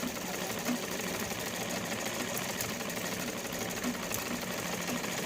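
Sewing machine winding thread onto its bobbin, a steady fast mechanical whir and hum running continuously at close range with no talk over it.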